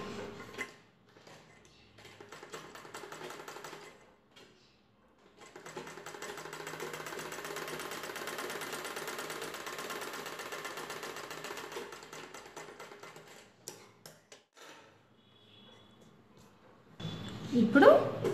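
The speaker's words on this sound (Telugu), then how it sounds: "ఫోల్డ్ చేసుకొని కుట్టు వేసుకోవాలి." A sewing machine stitches a back-open prince-cut blouse, running in a long steady burst of fast needle rattle, with shorter bursts before and after and a few quiet handling sounds in between.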